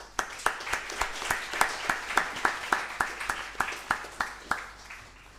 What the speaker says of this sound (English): let's give a big round of applause for the speakers